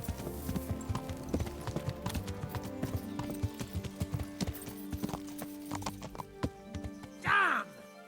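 Horse hooves clip-clop in steady rapid rhythm in the medieval game Kingdom Come: Deliverance, close and loud throughout, ending in a brief whinny near the end.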